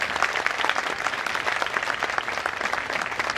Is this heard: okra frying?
no